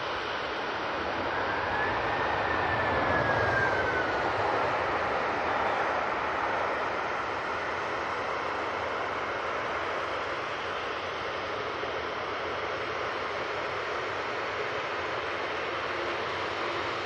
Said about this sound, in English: There we go, got an arrival. Erlinger, about to touch down.